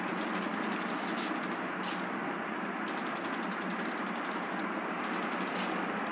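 Rapid submachine gun fire from COD Mobile, dense continuous bursts with short gaps, loud and close, filling the whole stretch with no talk.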